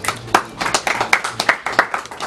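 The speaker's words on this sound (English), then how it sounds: "round of applause." An audience claps for the RG team in a short burst of applause, a few close, distinct hand claps standing out over a thinner spread of clapping, with faint voices underneath.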